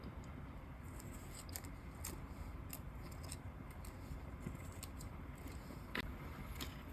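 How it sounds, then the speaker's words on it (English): Scissors snip through paper florals in a craft journal, a quiet, close series of crisp clicks and cuts at an uneven pace over a soft background hiss. "So I'm going to cut these florals in half."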